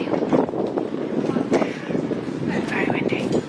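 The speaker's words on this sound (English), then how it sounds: "oh, it's windy" Wind buffets a microphone outdoors, a steady low rumbling roar with gusty swells throughout, close and loud, under a person talking.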